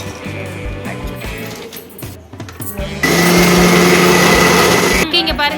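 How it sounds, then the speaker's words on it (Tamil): An electric mixer grinder whirs loudly as it grinds batter for Sri Lankan sugar cake, starting abruptly partway through with a steady high-pitched motor whine and cutting off near the end, after someone talks. "நாங்கள் வந்து மிக்சியில் அரைக்க போகிறோம்."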